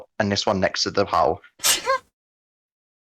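A person gives one short, sharp sneeze right after a few spoken words, then silence.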